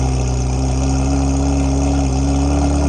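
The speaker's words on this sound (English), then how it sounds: "Definitely the exhaust sound and the engine sound." A Ferrari 360 with an IPE exhaust and open valves idles loudly and steadily with a deep exhaust rumble, holding a constant throaty drone throughout with no talking.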